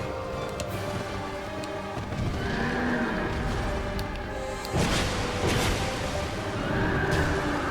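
A horse neighs and whinnies in the video game Dark Souls 2 against a low rumbling, stormy backdrop, its cries rising loud and close several times over the noise.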